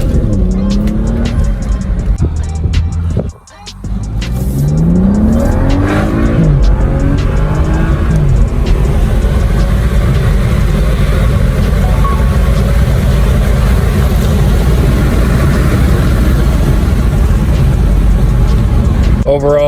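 A BMW F32 with a Dinan intake revs and pulls through repeated rising and falling sweeps, engine roar and induction noise steady throughout with a brief dip early, loud and close; a voice talks faintly over it at times.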